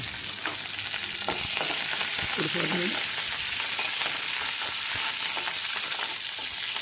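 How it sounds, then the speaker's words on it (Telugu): A tempering of spices, curry leaves and garlic crackles and sizzles loudly in hot oil without pause, with a few brief spoken words partway through. "పోపు వేసేసిన తర్వాత గుమ్మగుమ్మలు ఆడుతుందండి"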